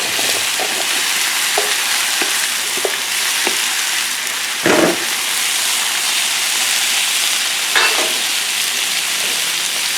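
Onions and peppers fry on a Blackstone griddle with a steady, loud broadband sizzle throughout, broken by a few soft spatula taps and scrapes and two brief louder clatters near the middle and end.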